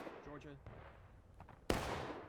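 Artillery cannon fires once with a sudden loud boom and rumbling tail during a War of Rights game battle, preceded by faint voices talking.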